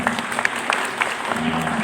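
Brief applause from an audience at a Pancasila Month ceremony, a steady patter of scattered clapping with a faint hum underneath.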